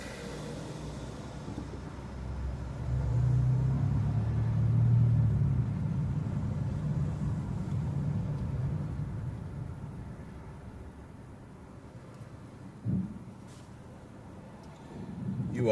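A car driving through Seattle commute traffic toward a freeway interchange, with a steady low engine and road rumble inside the cabin, one brief thump near the end, and no talk.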